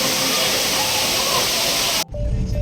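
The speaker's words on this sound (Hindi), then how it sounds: "उस पानी के गिरने की आवाज़ ने सारा बैकग्राउंड म्यूट कर दिया" Falling water at the Bandardara waterfall roars as a loud, dense, continuous rush that drops away abruptly near the end, leaving a quieter low rumble behind.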